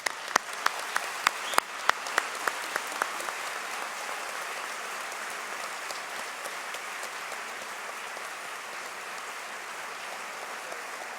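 Steady audience applause at a dental school white coat ceremony, opening with a few sharp, distinct claps that merge into a dense, even round of clapping from a large seated crowd.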